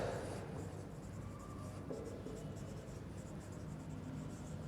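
Chalk or marker scratching across a board during a physics lecture on how gravity varies with height and depth: a steady, continuous writing scrape running for several seconds with no talking.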